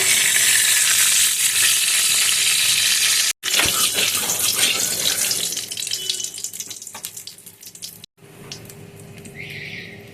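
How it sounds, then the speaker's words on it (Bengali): Nigella seeds hit hot oil in a pan for a curry of potato and aubergine, giving a loud, steady hiss that breaks off, then returns as a crackling sizzle that gradually thins out. "এবার একটু কালো জিরা ফোড়ন দিয়ে দেবো"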